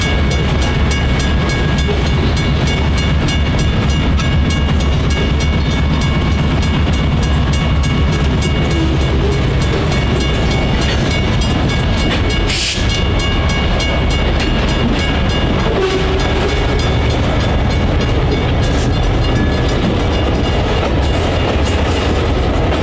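Freight locomotive 5094 shoves its cars past a grade crossing on the Michigan Line, a loud, steady rumble of wheels and engine that fills the whole stretch with no pause.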